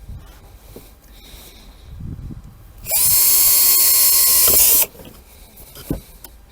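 An electric drill bores a hole in a car's console box for cigarette-lighter socket wiring, a loud high-pitched whine lasting about two seconds between quieter handling noises and rustling.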